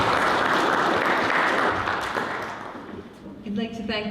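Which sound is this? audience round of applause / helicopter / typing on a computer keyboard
audience round of applause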